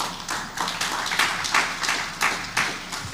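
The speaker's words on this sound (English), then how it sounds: "I think we should give them a round of applause" Audience applause at a technology and gender equity event, a moderate crowd clapping steadily with a few louder individual claps, no talk over it.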